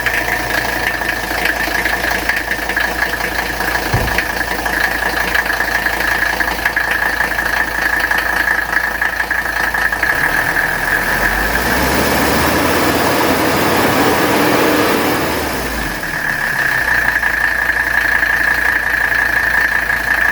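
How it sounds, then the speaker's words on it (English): A 1984 Mercedes 300SD diesel engine idles steadily after starting, a close, even clatter with a constant whine above it and a brief dip in the middle. "Guys, look how smooth that engine is."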